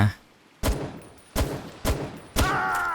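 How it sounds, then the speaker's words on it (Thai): Four loud, close gunshots ring out from a gun in the creature-catching game Palworld, spaced unevenly over a few seconds, each a sharp crack with a short tail, the last followed by a ringing, metallic echo. "ปืนลองดูแล้วกัน ยิงขา"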